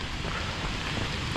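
The Saut Girard waterfall, a 35-metre cascade on the Hérisson valley trail, rushes as a steady broadband roar, loud and unbroken, with no voices over it.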